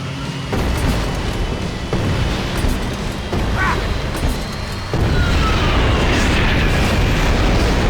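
Booming mortar blasts from the video game Max Payne 3, loud and sustained with rumbling low end and a heavier surge partway through, over dense battle noise and no clear talk.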